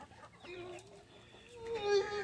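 A live chicken clucking and squawking in short, rising calls that grow louder toward the end, heard alone without talk.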